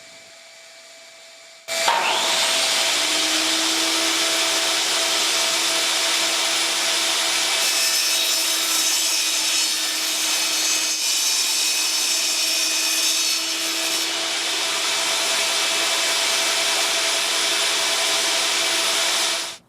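A small wood piece being cut for a repair, with a loud, steady rasping saw-like noise running continuously for most of the stretch after a sudden start, close by and without talk.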